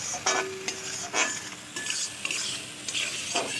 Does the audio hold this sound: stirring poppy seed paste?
yes